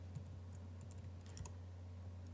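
Quick, light keystrokes on a computer keyboard while typing a folder name, a short burst of close clicks over a low steady hum.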